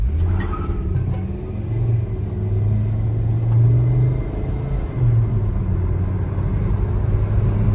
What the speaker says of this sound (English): I'm gonna floor it and then head on the highway.